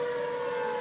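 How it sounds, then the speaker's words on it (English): Tornado warning sirens, one continuous and one intermittent, blaring together in Merrill, Wisconsin, heard as a loud, steady, sustained wail with no pauses during this brief moment. "Both of the sirens are going off."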